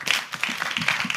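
A studio audience briefly applauds a contestant named Hubert on a French-language television contest show, a short burst of moderate clapping.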